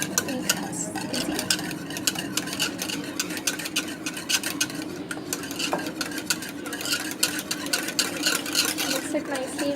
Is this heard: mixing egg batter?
yes